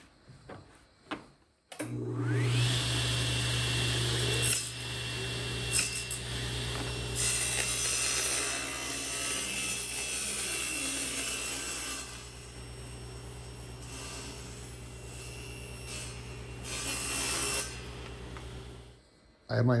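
Table saw cutting material against a fence set at four inches in a workshop, the motor starting and then whining steadily and loudly for about fifteen seconds, with the blade's cutting noise rising over the hum before it winds down.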